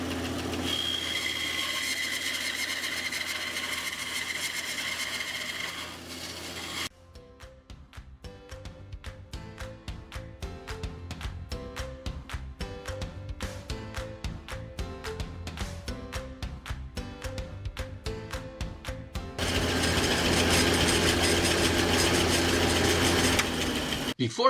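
Bandsaw slicing the top profile of a wooden bufflehead duck decoy body, a steady mechanical whine in the middle section set between louder stretches of broadband workshop noise, with no talking.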